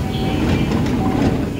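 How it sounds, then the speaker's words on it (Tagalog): An express train sits at or rolls through a station in Nara, Japan, giving a loud, close rumble with a faint metallic whine, heard briefly without talk. "Oh, ganda na express train pa, Nara."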